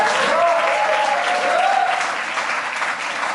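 Congregation applauding during a church evangelism sermon, a steady wash of clapping with a voice briefly sung or spoken over the start, sustained for a few seconds and easing slightly toward the end.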